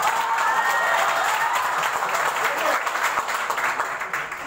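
A seminar audience breaks into loud, sustained applause that fills the whole stretch, dense clapping with a little cheering mixed in, easing slightly toward the end.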